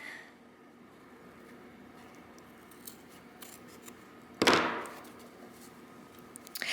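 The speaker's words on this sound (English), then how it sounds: "Now with the hook side, let me cut this down so it matches." Scissors cut through hook-and-eye bra tape while sewing a bra: one sharp, close snip with a quick rasping slide, set against a quiet room, with a few faint small handling clicks before and after.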